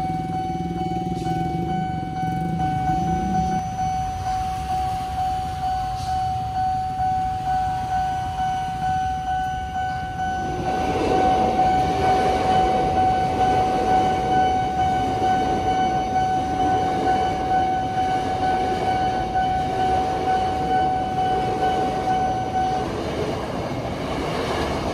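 A train rolls through the Volvo railway level crossing at Pasar Minggu, with its new barrier lowered. A steady warning tone rings throughout, and a loud rumble of rail cars swells in from about halfway and continues to the end.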